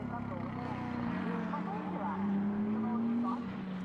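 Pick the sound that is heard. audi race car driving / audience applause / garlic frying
audi race car driving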